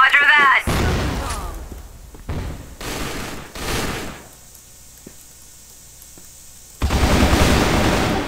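Several heavy blasts and bursts of gunfire in a multiplayer shooter game, loud and close, with sharp booms separated by quieter gaps and a final large explosion near the end.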